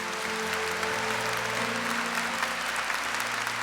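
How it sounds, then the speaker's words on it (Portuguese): A church congregation applauds at a Catholic healing service, producing a steady, dense roar of clapping from many people that stays even throughout, with a low organ or keyboard drone sustained beneath. "Eu queria que você aplaudisse com toda a força esse Deus"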